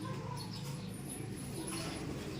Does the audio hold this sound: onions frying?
no